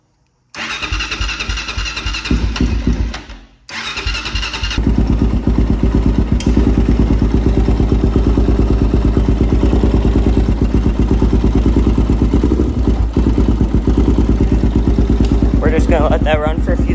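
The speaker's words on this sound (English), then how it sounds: "gonna start the bike and then check it once it's warm" A Honda 400EX ATV engine cranks briefly, cuts out, then fires and settles into a loud, steady, close idle with a rapid chugging pulse that continues to the end.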